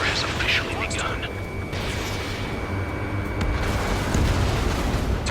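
Anti-aircraft gunfire in Ace Combat 7, a dense continuous barrage of booming flak and bursts under rumbling battle noise, with radio voices talking over it.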